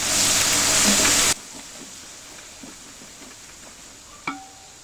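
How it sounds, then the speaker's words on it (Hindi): Onions frying in a pot of oil for degi chana pulao, a loud hissing sizzle at first that drops abruptly to a quieter, steady crackle with a brief clink near the end. "अब इसमें ऐड करेंगे हम लोग प्याज, प्याज को हमने गोल्डन ब्राउन करना है"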